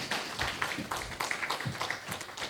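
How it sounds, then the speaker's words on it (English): Audience applause at a corporate felicitation ceremony, a dense wash of many hands clapping steadily and fairly loudly, with faint voices mixed in beneath it. "Give them a huge round of applause."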